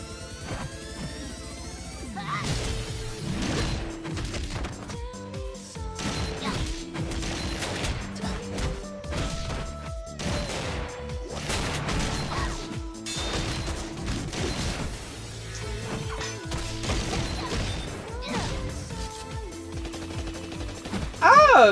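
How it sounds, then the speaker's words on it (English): Machine gun fire in a RWBY animated trailer, rapid bursts of shots mixed with crashes, metallic clanks and a music score, loud and continuous across the scene. "So our little bear DJ got himself a little machine gun."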